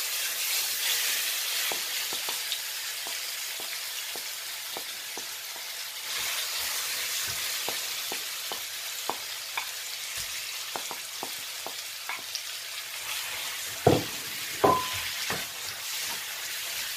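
Chicken pieces fry in hot oil for a Kerala-style chicken chukka, a steady close sizzle with scattered pops and occasional stirring clatters, a couple of louder scrapes near the end.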